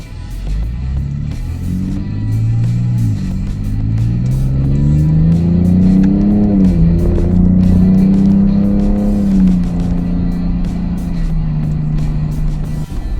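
A 2022 Ford Ranger Raptor pulls away and accelerates from inside the cabin, its engine note rising and falling through gear changes as a loud, continuous rumble with no talking.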